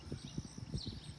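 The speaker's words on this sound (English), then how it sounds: "Hello, donkeys." Donkeys walking on a rail trail, the Cardinal Greenway, with a quick, uneven clip-clop of hooves close by, several soft thuds overlapping in a loose rhythm.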